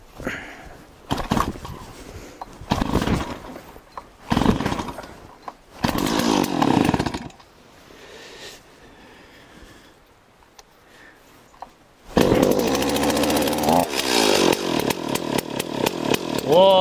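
A chainsaw, back in service after a carburetor membrane repair, is pulled through several short start attempts and then catches and runs loud and steady near the microphone, with revving over the last few seconds.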